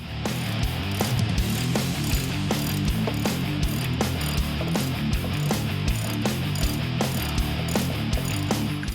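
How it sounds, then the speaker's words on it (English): A ratchet clicks in fast, even strokes while loosening the rear subframe bolt on a 2015-2023 Ford Mustang, close and continuous with no speech. "To get to these, you want to loosen the rear subframe bolt."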